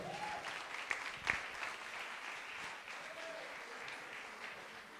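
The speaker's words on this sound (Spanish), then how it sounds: "¿Le das un aplauso al Señor por eso?" Church congregation applauding during a sermon: sustained dense clapping from a crowd, steady and moderately distant, with a faint voice briefly audible at the start.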